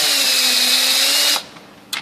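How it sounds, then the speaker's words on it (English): A power drill bores a pilot hole into a door jamb during lock installation, giving a loud, steady whine for just over a second before it stops, followed by a brief clatter. "I'm just going to drill a pilot hole"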